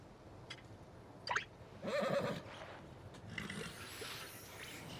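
Horse whinnying in the Palia video game, a short high neigh followed by a louder shaky whinny, with soft game ambience and faint clicks around it.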